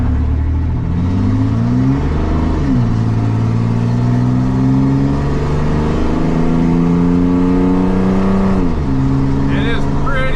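A Chevy S10 pickup with a cheap side exit exhaust rumbles loud and close at idle, with a deep steady drone, a couple of brief rises in revs and small pitch shifts throughout.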